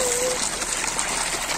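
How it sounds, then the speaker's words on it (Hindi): Dirty water drains away and sinks underground at an outdoor spot strewn with bricks and small stones. It makes a steady, close gushing rush that holds at an even loudness, with a brief tone at the very start. "ये देखें सारा यहाँ से पानी जा रहा है और यहाँ से ये पानी अंडरग्राउंड हो रहा है।"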